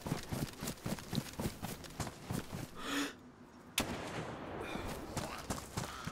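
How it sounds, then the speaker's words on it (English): Suppressed gunfire in DayZ, a string of sharp, muffled shots firing in a quick uneven rhythm over a busy game background, with one louder crack near the middle before a steady hiss takes over. "That's got a suppressor on it"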